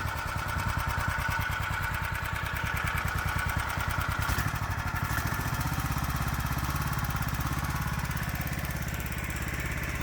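A HISUN UTV fitted with a swapped-in Predator big block engine runs steadily in gear, its close, even mechanical chugging and buzzing continuing without pause and without talk.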